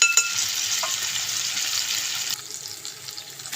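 Food frying in a pan hisses loudly and steadily, then drops to a quieter sizzle partway through, with a couple of soft knocks.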